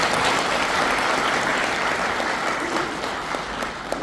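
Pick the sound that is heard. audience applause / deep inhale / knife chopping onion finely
audience applause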